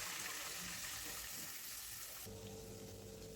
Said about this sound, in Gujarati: હવે અડધો ગ્લાસ જેટલું પાણી ઉમેરી દેસી